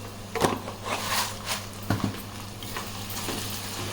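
Two onions fry in groundnut (peanut) oil in a pan while a country chicken curry is being made. A steady close sizzle runs throughout, broken by sharp clacks and scrapes of a spoon stirring against the pan, with no voices.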